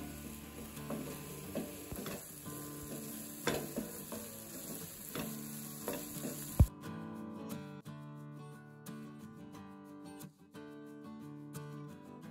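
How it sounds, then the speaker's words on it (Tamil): Egg masala being stirred in a pan: a steady sizzle runs beneath repeated scraping and clinking strokes, with background music playing throughout. "நல்லா வதங்கின அப்புறமா நான் ஒரு முட்டை சேர்த்துக்கிறேன். முட்டை சேர்த்துட்டு நல்லா கலந்து விட்டுறலாம்."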